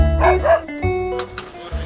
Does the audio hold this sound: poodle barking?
yes